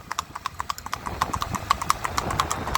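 A ridden 21-month-old Marwari horse trotting, its hooves giving a quick, even clip-clop rhythm of sharp knocks, close and fairly loud, against low background noise.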